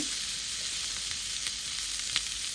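Chicken shashlik skewers sizzle steadily as butter is brushed over them, a soft continuous frying hiss with faint crackles and no talking.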